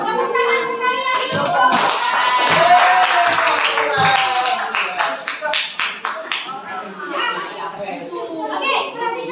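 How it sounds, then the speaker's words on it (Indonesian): Classroom audience of children clapping together on request, a dense burst of hand claps mixed with excited kids' voices and chatter throughout. "Tepuk tangan sekali lagi."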